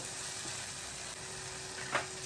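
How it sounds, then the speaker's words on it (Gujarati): Sesame and peanut powder stirred into fasting-style chilli potatoes in a pan, a low steady sizzle with one brief scraping stir near the end, no speech. "સિંગદાણાનો પાવડર એ પણ 2-3 ટીસ્પૂન નાખો. મિક્સ કરો."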